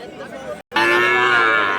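A red Sahiwal-Gir bull calf at a cattle market moos loudly and steadily for about a second after a brief pause, with faint market noise before it.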